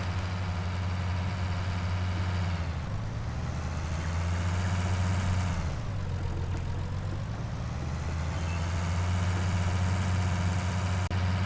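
Tractor engine in a farming video game, hauling a heavy trailer up a pile of snow: a steady, loud low engine drone that dips and rises as the load strains, continuous throughout with no talk.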